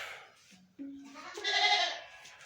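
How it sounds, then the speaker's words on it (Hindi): Several goats bleat in succession, a few short calls building into a louder, drawn-out bleat, fairly close with no talk. "ये बकरियों की आवाज़ सुनाई दे रही होगी"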